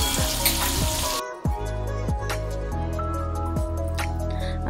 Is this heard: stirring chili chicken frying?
yes